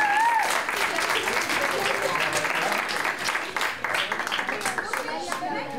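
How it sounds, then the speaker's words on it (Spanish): A crowd applauds loudly and steadily at a Three Kings reception in San Roque, where a commemorative plaque is presented to King Melchior. The clapping is close and dense, with voices mixed in beneath it. "Tenéis que aplaudir fuerte, ¿eh? Al Rey Melchor."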